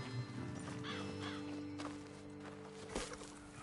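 Horses shift and clip-clop with soft hoof steps and snorts in the Red Dead Redemption 2 video game, set against a tonal ambient music bed, with faint whinny-like calls throughout.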